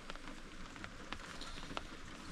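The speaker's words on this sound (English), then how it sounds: "day four is rainy and 45." Rain patters steadily on surfaces outdoors during a rainy 45-degree day of whitetail deer hunting, soft and continuous with scattered louder drops.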